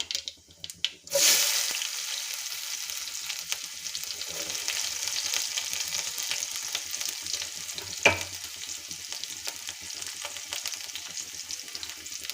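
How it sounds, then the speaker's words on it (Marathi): Onion dropped into hot oil already crackling with cumin and mustard seeds for a traditional Bhogi vegetable dish, giving a loud burst of sizzling that settles into a steady, close frying hiss with a brief clatter partway through. "जिरं आणि मोहरी तेलात छान झालेला आहे त्यानंतर आपल्याला घालायचा आहे कांदा"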